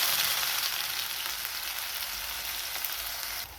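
Onion added to hot oil with cumin and cinnamon in a pan for egg rice, a bright, steady hiss of frying that fades slightly toward the end.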